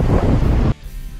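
Strong cold wind blowing into a microphone outdoors in New Zealand, a loud, close roar that cuts off abruptly after under a second, leaving a quieter low rumble.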